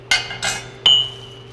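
A mortar and pestle pounding ingredients: three sharp strikes spaced under half a second apart, the last ringing with a bright, lingering clink, close and alone with no talk.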